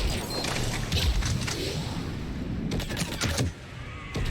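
Pistol fire in the video game Mass Effect 3 bursts out in several sharp, loud shots, some in quick clusters, amid continuous combat noise and rumble.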